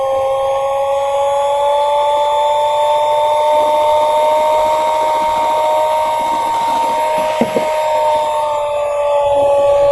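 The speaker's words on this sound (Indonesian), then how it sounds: "Ini kalau pakai mixer berapa lama nih Kang aduk?" An electric mixer churns a big batch of crispy crepe batter with a loud, steady motor whine and a constant hum that hold evenly throughout, close by.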